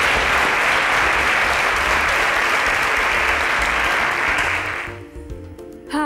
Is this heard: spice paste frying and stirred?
no